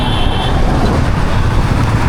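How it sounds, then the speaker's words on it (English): Heavy road traffic rushes past on a night ride in Hyderabad, heard from a Meteor 350 motorcycle as a loud, continuous roar of engines and tires. There are no distinct breaks in the dense wash of sound. "look at the traffic"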